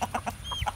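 Chickens cluck in quick, repeated bursts, close by, with a short chirp mixed in among the clucks.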